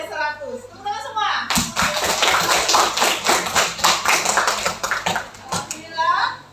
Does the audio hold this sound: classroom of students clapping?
yes